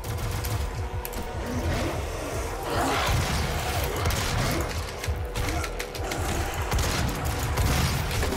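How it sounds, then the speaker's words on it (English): Rapid weapon fire from enemies in the Doom video game chatters continuously at loud volume, forming a dense, mechanical rattle with intermittent bursts layered throughout. "Ooh, they're firing shit at me."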